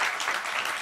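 A short burst of audience applause at a children's television show, a dense, even clatter of many hands clapping close by with no talking.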